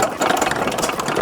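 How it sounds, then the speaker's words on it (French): A small old engine runs beside a wood-heated washing machine, giving a steady close chugging idle with quick regular knocks and a faint mechanical rattle. "Alors vous voyez le petit moteur."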